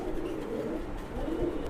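Teddy pigeons coo softly and continuously at a pigeon sale, a low rolling murmur of several birds close by with no talk.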